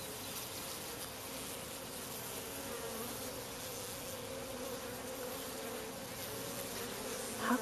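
Killer honeybees ball a queen in a bare hand, a dense, continuous swarm buzz, close and fairly loud, steady throughout with a slight rise at the end.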